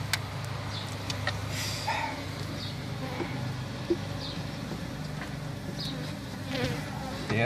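Swarming bees buzz close by during removal of a beehive from a building overhang, a dense steady drone with individual insects whining past, loud and near, with no talk over it.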